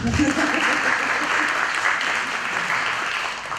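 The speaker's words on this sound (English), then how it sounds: "you can applaud for that." Church congregation applauding during a presentation, a dense steady wash of clapping that holds for several seconds before easing slightly, with some voices mixed in.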